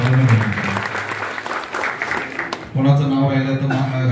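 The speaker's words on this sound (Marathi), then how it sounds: "पुन्हा तुमच्यासाठी सर्वांसाठी जोरदार आपण टाळ्या वाजवणं गरजेचं आहे" Audience applause at a political rally for municipal council candidates, a burst of crowd clapping under a loud voice over a PA, with a brief dip before the voice and clapping resume.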